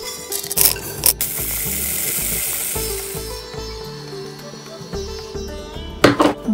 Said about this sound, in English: Let's take it to the mixer jar and give it a fine grind.